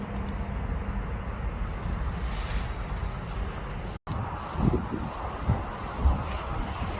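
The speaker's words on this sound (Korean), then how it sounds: "바람이 많이 부네" Strong wind buffeting the microphone outdoors, a steady rumbling low roar with a few heavier gusts and a brief dropout, no speech.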